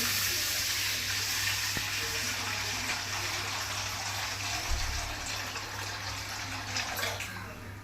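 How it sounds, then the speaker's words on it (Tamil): Water is poured into a heated pan to cook Maggi noodles, giving a steady, soft hiss and rush that continues evenly, with a low hum underneath. "நல்ல இப்போ தண்ணி ஊற்றுவோம் கொஞ்சம்"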